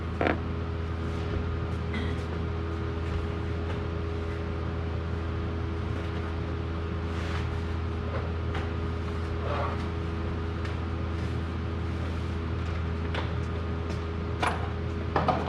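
A torque wrench tightening bolts on a VVT gasket of a 2014 Honda Odyssey engine, with steady creaking and ratcheting mechanical sounds over a constant low hum and a few sharper clicks, close and with no talking.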